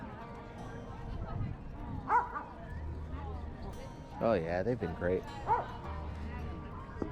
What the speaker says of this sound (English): We'll try to at least get one example if he starts barking.